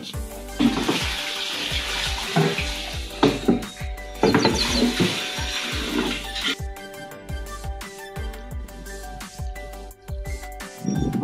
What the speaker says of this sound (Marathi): आता हे आपण जी राहिलेली जी टाकीची जागा आहे त्या सगळी पाण्याने भरून द्यायची आहे।